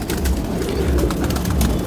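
A Sialkoti pigeon coos in low, soft, continuous tones close by, with a bright noisy background around it and no talking.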